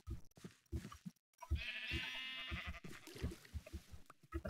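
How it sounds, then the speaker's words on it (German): Sheep bleating in the video game Minecraft, a sustained wavering bleat of moderate loudness standing out between other game sounds, with no talk over it. "Das Schaf läuft gerade drüber."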